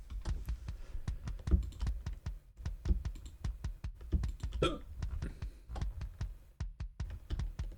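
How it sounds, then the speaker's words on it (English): A person's hiccup sounds close by amid a run of quick, dry computer keyboard typing clicks that tap on steadily throughout. "I'm getting distracting myself with the stupid cough or the stupid hiccup."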